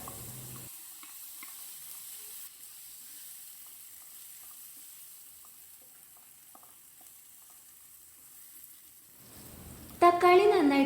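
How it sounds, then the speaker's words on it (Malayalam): Chopped tomatoes hit hot oil in a pan for a traditional Kerala roasted-coconut chicken curry, giving a soft, steady sizzle with small crackles, then a sudden louder burst of frying near the end. "ഇനി അതിലോട്ട് തക്കാളി ഇട്ട് കൊടുക്കുക."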